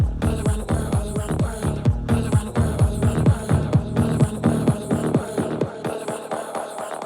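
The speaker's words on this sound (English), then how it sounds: "You can hear it starts to echo out as the song gets thinner." A dense house/techno track in a DJ mix with thumping beats whose sound smears and repeats in a washy echo effect, thinning out toward the end.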